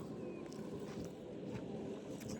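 A tractor brought in to level a farm field runs steadily, its low engine rumble continuous and fairly loud with some wind buffeting over it.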